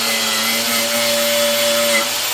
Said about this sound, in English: I've got my grinder with a wire wheel on it, and we're just going to hit it up super quick.